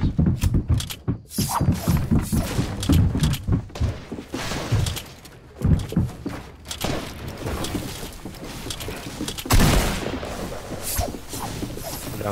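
Gunfire in a multiplayer shooter game cracks out in repeated sharp bursts and rattling volleys, some close and loud, others farther off, with heavy impacts scattered throughout and little talk.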